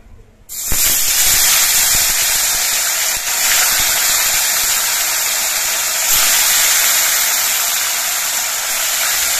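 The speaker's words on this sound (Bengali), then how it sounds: "আমি 4টে করে মাছ দিয়ে একবারে ভেজে নিচ্ছি" Loud, continuous sizzling and crackling of bhola fish frying in hot oil, four pieces at a time, starting abruptly and holding steady throughout.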